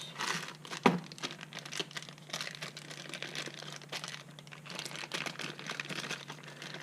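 Plastic bags from a Syma X500 camera drone kit being opened and handled, a steady close crinkling and rustling with a sharper crackle near the start, no voices.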